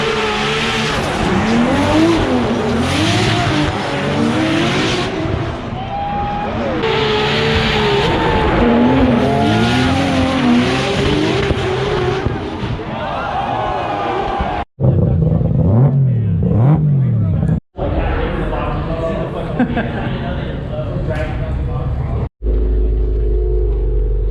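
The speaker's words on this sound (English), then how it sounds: "watching insanely high horsepower drift cars" Loud, high-revving, high-horsepower Formula Drift cars roar and rise in pitch as tires squeal through slides at a Seattle event, with brief cuts between passes; no one speaks.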